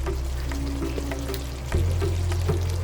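Finely chopped tomato goes into a pan of pumpkin kootu as it cooks, and the pan's soft sizzle swells suddenly into a steadier, louder frying hiss.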